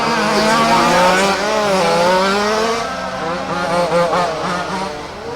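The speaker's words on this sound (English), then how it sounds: "Got Brian navigating his way through traffic here, driving the blue and white ride" Rally cars race at Warm Springs Raceway, engines rising and falling in pitch as they pass in traffic, loud and continuous.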